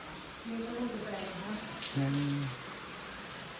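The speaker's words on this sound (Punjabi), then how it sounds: "ਬਾਕੀ ਵੇ ਮੀਂਹ ਨਹੀਂ ਘਟ ਰਿਹਾ" Steady heavy rain hisses throughout, with a voice speaking briefly over the downpour.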